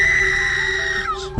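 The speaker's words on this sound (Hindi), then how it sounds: "फिर एक तेज चीख सुनाई दी" A loud, piercing, sustained scream with a shrill whistling quality rings out in a horror audio story, holding steady before breaking off abruptly.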